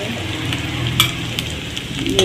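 Garlic paste stir-frying in a hot pan of oil with onion paste, sizzling steadily up close as a spoon scrapes and stirs, with a sharper clatter of utensil against pan midway and near the end.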